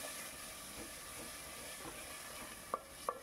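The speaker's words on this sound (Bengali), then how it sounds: "টক দইটা যখন অ্যাড করবেন গ্যাসের ফ্লেমটা কিন্তু অবশ্যই স্লো করে নেবেন। দিয়ে দেখুন ভালো করে একটু নাড়িয়ে চাড়িয়ে নিচ্ছি" Sour yogurt being stirred into a vegetarian navratan korma over a low flame, a faint steady hiss and soft sizzle with two brief clinks of the spoon near the end.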